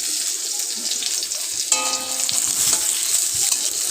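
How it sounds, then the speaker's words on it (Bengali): Chopped tomatoes hit hot oil in a wok with a bright, continuous close sizzle, joined partway through by scraping stirs and faint clinks. "তেলটা গরম হয়ে গেলে তাতে দিয়ে দিলাম টমেটো কুচি"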